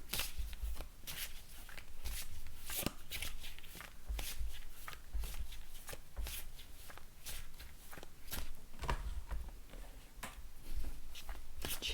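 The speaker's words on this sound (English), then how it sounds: "Try not to shuffle too loudly." Wild Unknown tarot cards are shuffled in quick, soft riffling bursts, faint and close, with a steady papery rhythm across the whole stretch.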